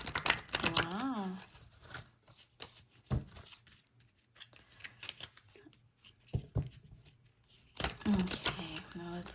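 A deck of cards is shuffled up close in brief riffling bursts near the start and end, with soft rustles and taps between them and a person's voice heard at times.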